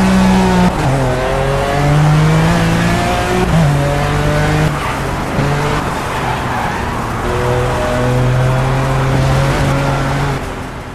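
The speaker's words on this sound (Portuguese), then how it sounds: "o motorzão desses carros aqui é sinistro" A Lykan HyperSport in the racing game Project Cars revs hard, its engine pitch climbing and dropping through gear changes, with tire squeal mixed in, loud and close throughout.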